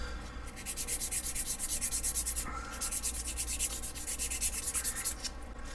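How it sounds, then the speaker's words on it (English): Plastic knife scales from a Benchmade 940 clone are lightly scuffed with sandpaper by hand. Steady, rhythmic back-and-forth rasping strokes sound close up, about two per second, with no talking. "I'll do this to both scales, you know, all the way around, just lightly scuffing up the surface"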